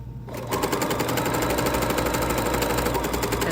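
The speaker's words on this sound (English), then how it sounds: "And then I'll just finish sewing around." Sewing machine stitching around the edge of a folding wallet, a loud, close, rapid rhythmic clatter starting abruptly after a brief quiet moment and running steadily to the end, with no talk.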